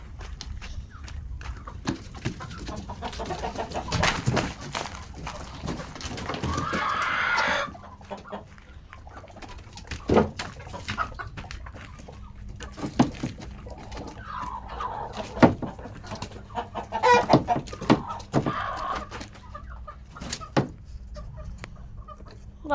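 Chickens cluck and squawk in repeated bursts around a yard where farm animals are kept, with occasional louder flapping and scuffling noises, close by and intermittent over a low background.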